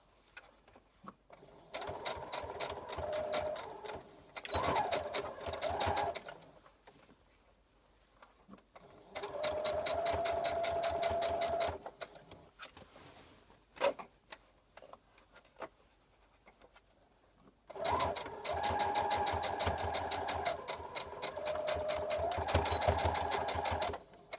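A domestic sewing machine stitches the armhole of a dress in three long bursts of rapid mechanical clatter, separated by quieter pauses with fabric handling and small knocks, close and clear with no talking.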